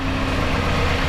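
A dual VVT 2.4 liter car engine idles in a repair shop, a steady, low, even rumble with a smooth hum and no rise in revs, heard alone and close throughout.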